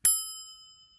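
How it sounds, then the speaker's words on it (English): A bright notification bell ding, a single clean metallic strike that rings out with clear tones and fades smoothly over about a second, alone with no other sound. "don't forget to hit that notification bell"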